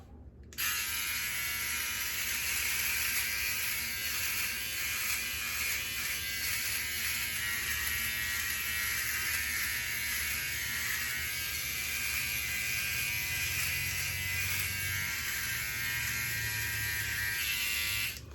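A Philips OneBlade Pro electric trimmer runs steadily against a beard, shaving upward for about eighteen seconds, a close, continuous buzzing whir with slight changes in tone as it moves over the hair.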